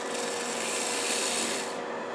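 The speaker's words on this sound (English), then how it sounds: "So for the outside, I'm going to use an inertia sander." An inertia sander works over the outside of a carved wooden tulip, a steady close rasping hiss that holds evenly, then drops off sharply near the end, with no talk.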